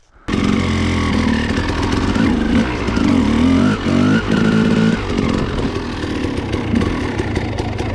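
A Husqvarna dirt bike engine fires up abruptly and runs loud and close, revving and dipping with a buzzy two-stroke rasp before settling into a steady high idle.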